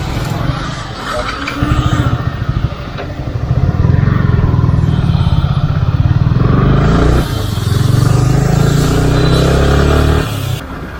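A Royal Enfield GT650 motorcycle engine fires up and settles into a close, thumping idle with a slight rev, while a person talks nearby.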